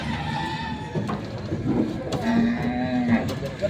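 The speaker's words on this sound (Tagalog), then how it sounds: "Yan ang dalawang bakang malaking dumating dito sa Lucena." Cattle lowing at a livestock auction market in Lucena, Quezon, where horses and carabao are also sold, with a couple of long drawn-out moos among crowd chatter and people talking nearby.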